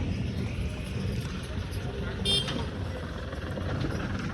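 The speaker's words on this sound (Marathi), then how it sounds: "गाडी पण आली आता." A vehicle rolls up a village road in rural Konkan, a low steady engine rumble with a brief horn toot midway, heard from close by under faint background voices.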